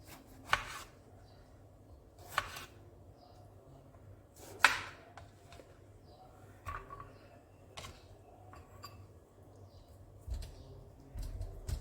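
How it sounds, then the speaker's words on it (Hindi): Knife chopping tomatoes on a board: a few sharp separate cuts spaced a couple of seconds apart, then softer ticks, close but quiet over a low hum. "टमाटर आपने काट लिए।"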